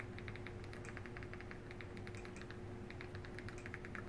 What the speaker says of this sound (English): the URL we'll be typing in today is for Kodi